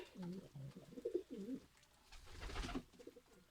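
Pigeons coo repeatedly in a loft, soft rolling calls close by, with someone talking quietly in between.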